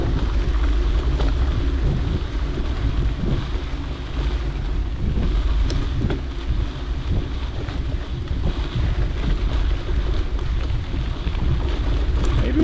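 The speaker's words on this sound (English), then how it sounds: "Getting more wind at our face, but it feels like it can be chilly at times" Strong wind buffets the microphone throughout while riding on the White Rim route near Monument Basin, a constant, loud roar of gusts with no clear speech.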